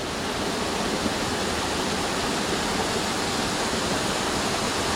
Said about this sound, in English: Another crossing of this little creek that feeds into a tributary of the main stream I was on.